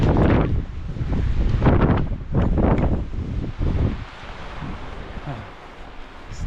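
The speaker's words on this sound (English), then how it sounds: "I'm not gonna hang out up here with the wind." Strong gusting wind buffets the microphone at a mountain pass reached by bicycle, a loud rumbling roar that surges and eases in waves with no speech.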